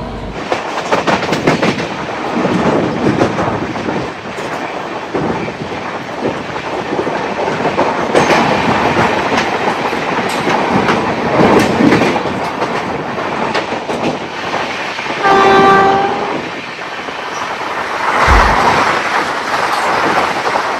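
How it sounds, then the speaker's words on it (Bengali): A Gaya–Howrah Vande Bharat Express roars past at night near Gomoh with loud, continuous rumble and rhythmic clickety-clack, a brief horn blast partway through, then a sharp metallic squeal near the end. "এইখানে এখন আমাদের ট্রেনকে ক্রস করবে গয়া হাওড়া বন্দে ভারত এক্সপ্রেস"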